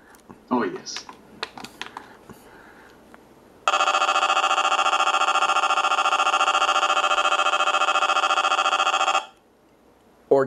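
Alert siren test on an Eton ZoneGuard Plus weather radio: after a few clicks and handling noises, a loud, harsh, rapidly pulsing electronic tone blares steadily for over five seconds, then cuts off.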